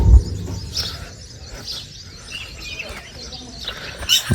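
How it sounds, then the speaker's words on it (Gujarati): Faint bird chirps come in a few scattered bursts over a quiet room-like background, with a louder chirp near the end. "મસ્ત ઝીણો ઝીણો અવાજ આવે છે પંખીનો"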